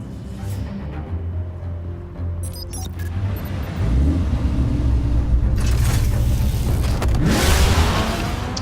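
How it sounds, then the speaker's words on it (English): Car in the Batman Telltale game pulling forward a short distance, with a low engine rumble that swells as it moves, plus faint mechanical clicks. "We pulled the car forward like 2 inches."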